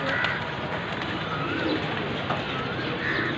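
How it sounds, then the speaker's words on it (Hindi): Pigeons out in the open, cooing and calling over a steady broadband outdoor wash of wind and flapping, with soft coos rising now and then throughout. "ऊपर कितने कबूतर उड़ रहे अपने"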